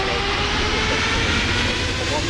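An airliner engine in Microsoft Flight Simulator 2020 spools up as a loud, steady broadband roar with a faint whine, held without a break.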